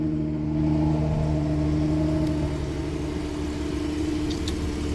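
A 2009 Infiniti FX35 engine idles close by, a steady low rumble holding an even pitch throughout with no revving.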